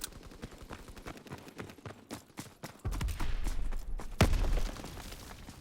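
Gunfire from the World War II shooter Call of Duty WW2 rattles in rapid irregular bursts, with fire from several weapons at once, swelling louder with heavy low booms in the second half and a sharp loud burst near the end.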